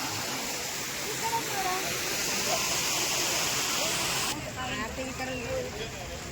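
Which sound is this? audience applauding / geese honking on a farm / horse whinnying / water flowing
water flowing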